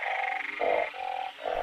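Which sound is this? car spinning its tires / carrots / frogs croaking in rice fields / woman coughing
frogs croaking in rice fields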